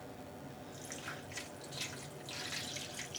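Water poured from a measuring cup into a pan holding yarn for dyeing, soft splashing and trickling bursts close by with no talk.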